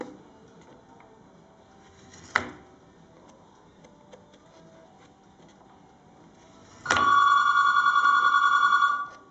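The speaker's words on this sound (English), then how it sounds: "There's the phone" A telephone rings in a guitar-building workshop where Les Paul guitars are made, a loud bright electronic ring lasting about two seconds after a sharp knock and a stretch of quiet bench noise.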